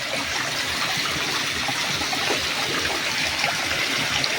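Water flows steadily in a stream, a continuous rushing and trickling close by with no voices.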